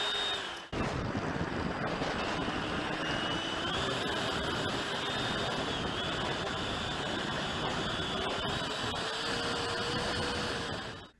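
An electric ducted fan model jet flies a landing approach with a steady, loud whooshing whine that rises slowly in pitch as throttle increases, a continuous sound with no talk.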